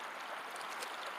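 Faint, soft trickling wash of creek water flowing steadily with light gurgles, quiet and continuous with no voices.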